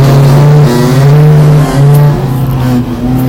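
Race car engine on an ice track held wide open, a loud steady droning roar with slight pitch shifts as it pulls hard, close and continuous with no talk.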